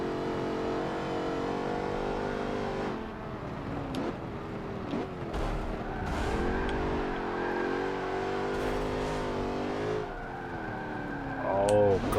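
Race car engine in Forza Motorsport 7 gameplay, revving and shifting through a corner with rising and falling engine tones, tyre scrubbing and a short screech near the end, loud and continuous.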